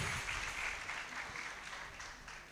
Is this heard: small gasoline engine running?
no